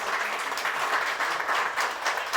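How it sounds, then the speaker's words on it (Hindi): Big audience at a tribute ceremony welcoming the wives of soldiers gives hearty applause, a full, even roar of clapping hands sustained across the whole moment with no speech over it. "जोरदार तालियों से इनका स्वागत किया जाए।"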